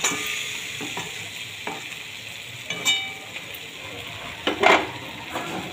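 Bhetki fish bone chorchori is stir-fried in a pan, with a continuous close sizzle broken by intermittent scrapes and knocks of the spatula against the pan.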